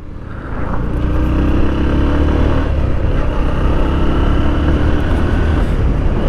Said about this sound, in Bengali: ফার্স্ট গিয়ার থেকে সেকেন্ড গিয়ার যাওয়ার সময় একটু সাউন্ড করে